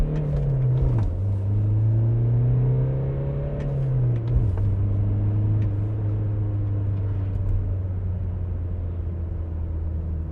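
A BMW E81 rear-wheel-drive hatchback accelerates while driving, its engine note rising steadily in pitch, dropping at gear changes near one and four seconds, then settling into a steady drone with cabin rumble throughout.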